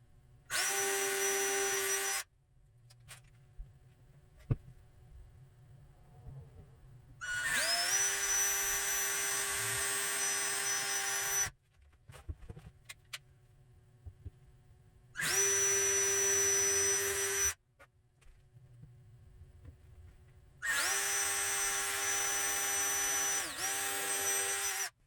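A power drill boring pilot holes for a new pantry: four separate bursts of loud, close whirring, each running a couple of seconds, separated by quiet gaps with faint handling noises and no speech.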